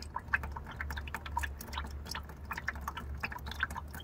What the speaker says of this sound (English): So I gotta drain a little bit of the rad first before I can pull that out.